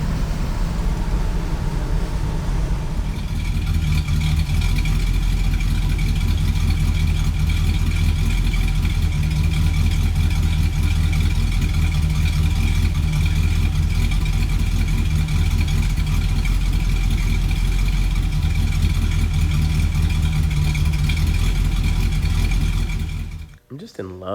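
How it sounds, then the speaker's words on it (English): A 1964 Studebaker Avanti engine idles at about 800 RPM with a slight lope, a steady loud low rumble continuing for over twenty seconds before cutting off at the end, with a voice talking over it. "Idle's nice, right at about 800 RPM, as you can see with that idle video. It's just got that little bit of lope."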